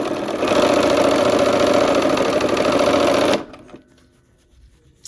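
A sewing machine runs fast at full pedal, a loud steady buzzing drone for over three seconds before it cuts off abruptly, leaving near silence.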